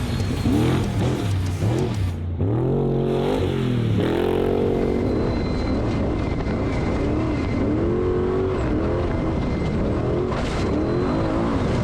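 A TSCO Gen3 Trophy Truck at the San Felipe 250 Baja race growls as its engine revs and pulls away, rising and falling in pitch through several throttle surges, loud and close throughout.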